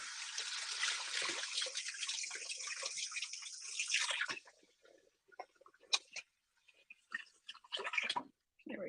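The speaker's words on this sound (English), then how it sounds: "I need to wash my hands." Tap water runs steadily while hands are washed in a home kitchen, a continuous close splashing rush for about four seconds that stops, followed by scattered drips, rubbing and clatter.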